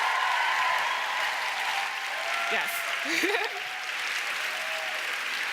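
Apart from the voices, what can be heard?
audience applause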